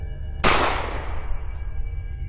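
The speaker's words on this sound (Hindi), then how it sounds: "गोली जैसे ही बंदूक से निकली" A single sharp gunshot cracks out, then its echo trails off into quiet.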